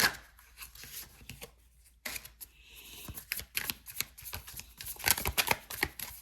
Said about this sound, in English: We'll keep shuffling